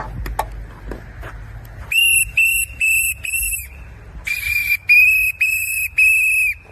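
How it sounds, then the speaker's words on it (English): Shrill whistles blown in sharp bursts, a pair and then a quicker run of four or five, loud and close, after a few low thumps. "they get out and they start like blowing whistles and stuff"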